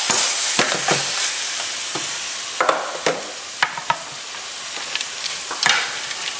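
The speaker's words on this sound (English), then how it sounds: "Mix that all together with your rice" Fried rice with raw red onion is stirred in a hot sizzling pan, with steady frying hiss and repeated scraping clacks of the spoon at an uneven rhythm, loud and close.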